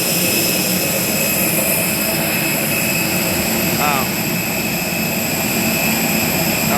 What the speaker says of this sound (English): A320 with IAE engines